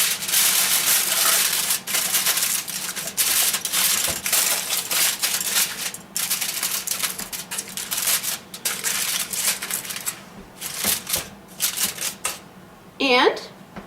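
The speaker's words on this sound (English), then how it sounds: "So we cover it with foil." Aluminum foil crinkles and rustles steadily over a lasagna dish in a home kitchen, a close, continuous scrunching with a few sharper crackles near the end.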